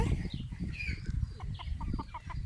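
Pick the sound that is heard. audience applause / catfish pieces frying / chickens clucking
chickens clucking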